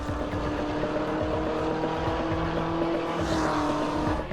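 V8 ute race cars racing at Adelaide, a loud, continuous engine roar with sustained high revs and a rising passing whine near the end, no talk over it.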